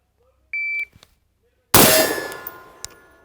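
A shot timer at a shooting range gives a single steady electronic beep, followed about a second later by a loud, sharp carbine shot that rings and decays, with a few faint clicks between.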